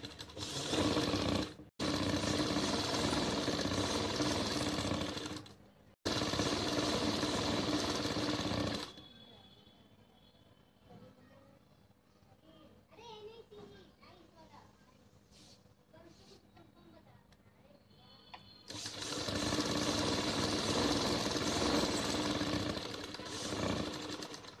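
Sewing machine stitching a strip of fabric into a slit-design garment, whirring loudly in three bursts of about eight seconds, a brief pause between the first two and a quiet gap with faint handling noises between the second and third.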